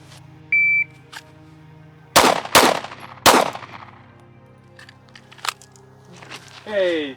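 Three sharp, loud pistol shots from a sights-removed slick-top pistol crack out in quick succession during a timed shooting drill, preceded by a short electronic timer beep, with quieter clatter between.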